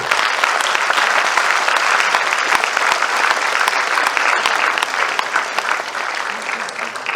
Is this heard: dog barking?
no